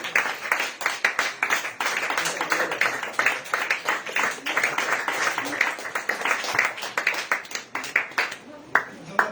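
A church congregation claps for the Lord in a sustained, dense round of applause lasting several seconds, with rhythmic hand claps filling the room and a voice talking over it.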